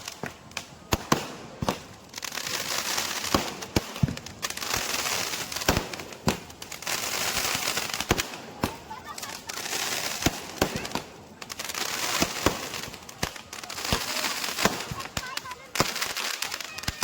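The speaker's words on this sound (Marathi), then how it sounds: "ही आकर्षक नेत्रदीपक फटाक्यांची आतषबाजी बघा" Firecrackers and fireworks burst during a Ganesh immersion procession: dense, rapid cracks and pops crackle on and off for the whole stretch over a steady crowd roar with voices mixed in.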